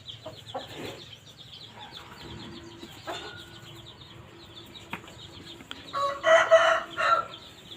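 Roosters and hens in a Thai poultry pen of about thirteen birds, with a clear crowing call rising near the end over a background of clucking and faint bird sounds.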